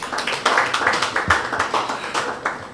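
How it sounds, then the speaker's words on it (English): Applause from an audience at a criminal law review conference, a short burst of mixed hand claps, fairly close and steady, with a few sharper individual claps standing out. "Please let us give him another round of applause."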